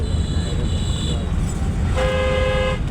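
A car horn sounds during a driving lesson on a road: a steady honk of almost a second rises over constant engine and traffic rumble, after a fainter tone earlier.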